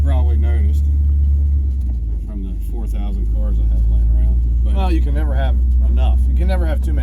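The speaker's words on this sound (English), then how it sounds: "So I'm driving, as you can tell." A 1957 Chevy rumbles steadily from inside the cabin while driving, a low constant engine and road drone running under someone talking throughout.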